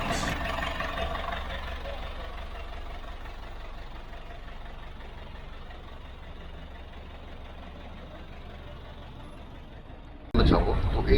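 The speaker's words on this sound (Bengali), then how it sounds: "সেখানে অবশ্য ইঞ্জিনের আওয়াজে বেশিক্ষণ দাঁড়ানো মুশকিল।" The engine of a river launch on the Sundarban waterways drones low and steady below deck near the engine room, a continuous heavy rumble, with a louder burst of noise at the very end.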